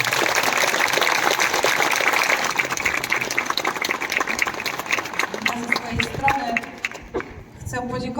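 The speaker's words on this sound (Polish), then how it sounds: "Duże brawa i gratulacje" Audience applause at the opening of a summer jazz workshop at a school in Sępolno: loud, dense clapping that gradually thins and breaks into scattered claps, with some voices underneath.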